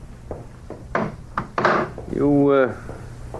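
Radio drama sound effect of packages being dropped just inside a door: a few sharp wooden knocks and thuds, then a short creaking door swing, all close and clear.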